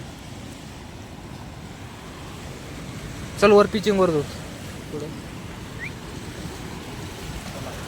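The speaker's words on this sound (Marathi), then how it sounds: "पाणी वाजत आहे किती आवाज आहे पाण्यात फक्त" Overflowing water rushes steadily at Nathsagar dam in Paithan, a constant broad roar through the whole stretch, with someone speaking briefly over it partway through.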